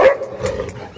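A Labrador named Tuffy, penned with female dogs, gives a single short bark followed by a low, faint growl, close by.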